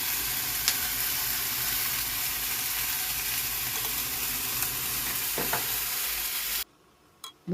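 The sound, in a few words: stir-frying sweet potato stems with doenjang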